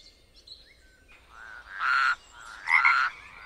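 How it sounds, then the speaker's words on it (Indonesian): A frog croaks twice in close, loud bursts, each a raspy rattling call about half a second long, with faint chirps and birdlike tones before them and a quiet background. "ini adalah katak."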